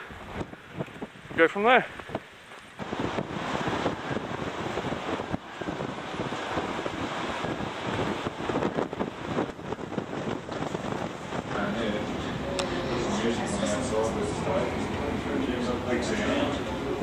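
Strong gusting wind buffets the microphone at a ski lift in Australia, a loud continuous roar with rumbling gusts that rises and falls; a person speaks briefly near the start over it.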